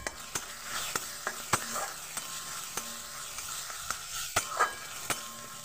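Ginger-garlic paste sizzles with fried onions in a pan while a spoon stirs, a soft continuous frying crackle broken by sharp metallic scrapes and taps at irregular intervals, no talking.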